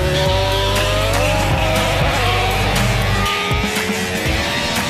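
A Red Bull RB1 Formula One car running, its high-revving engine screaming loudly and continuously with rising and falling pitch as the revs climb, close by, before the note drops near the end.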